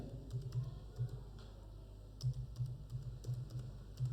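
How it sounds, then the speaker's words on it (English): Typing a sheet name into an Excel workbook on a computer keyboard, a quiet run of separate key clicks with small pauses and no voices. "So we will type the new sheet name here"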